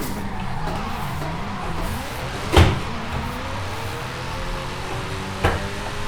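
Car engine in Forza Horizon revving and wavering through a drift driven with a steering wheel and clutch, a steady droning hum with two sharp clunks from clutch or gear shifts.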